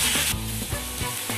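Chopped tomatoes and softened onions fry in a pan for potato masala dosa filling, giving a brief, continuous close sizzle with stirring scrapes and no talk.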